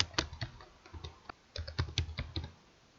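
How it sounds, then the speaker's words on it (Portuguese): Typing on a computer keyboard to enter spreadsheet column text, with close, quiet clusters of key taps in irregular bursts and a short pause midway. "agora eu vou digitar o texto das colunas"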